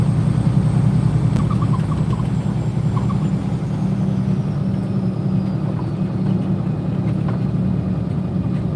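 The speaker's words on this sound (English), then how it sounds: "You can hear the truck decelerating on its own" Semi truck slowing on a snowy road around Buffalo, NY, a steady loud engine drone and road rumble heard from inside the cab, easing down without other sounds.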